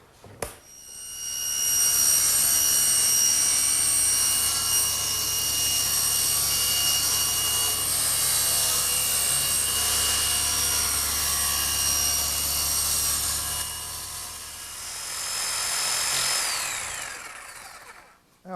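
An electric jigsaw cuts a slot through a wooden workpiece in a woodworking shop, one loud, steady buzzing run lasting most of the stretch, briefly dipping near the end before ending in a final burst.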